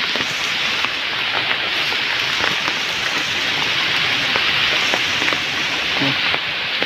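Heavy rain pours down steadily on a forest while a bamboo trap is set, a loud dense hiss with pattering drops all through. It is close and continuous, with no clear talk.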